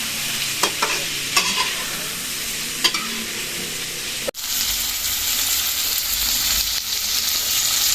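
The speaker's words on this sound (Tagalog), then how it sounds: "Tapos po hahaluin po ulit natin." Sweet and sour tilapia being stirred in a hot pan: a constant sizzle with a few scraping strokes, then an abrupt cut into a louder, denser hiss of frying.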